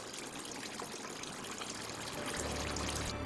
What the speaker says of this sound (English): black, thick juice drips from the linen bag through a small hole and into the vat